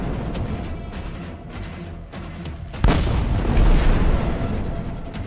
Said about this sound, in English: And then a Ukrainian tank fires point blank at another Russian APC.